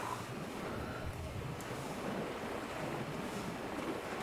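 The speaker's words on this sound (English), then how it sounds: "Love the splashing water effects and sound and everything." Water splashes and washes in the VR game Subside, a soft, continuous surf-like rush with airy noise, faint and steady with no talking over it.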